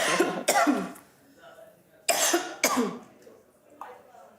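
A person coughs in several harsh bursts, two around the start and two more a moment later, followed by a softer throat-clearing sound, close and fairly loud.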